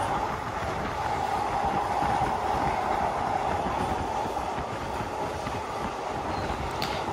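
Passenger train crossing onto the Padma rail bridge, with a loud, continuous rolling roar and rattle of the carriages heard from inside, steady throughout and free of speech.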